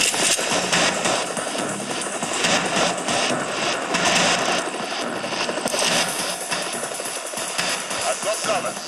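A helicopter in the Sniper Fury shooter game gives off a loud, continuous rotor and turbine roar, dense and sustained throughout, with bursts of gunfire-like crackle layered on top.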